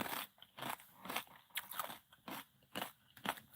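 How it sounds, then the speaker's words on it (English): A person chews crunchy food close to the microphone, with rhythmic, crisp bites and crackling mastication repeating every half second or so, loud and intimate with no talking. "Sorry that I'm chewing in y'all's ear"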